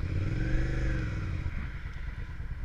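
A Suzuki SV 650 motorcycle rides along country roads, its engine droning steadily and close, with a rising rev early on that eases into a rougher, even hum.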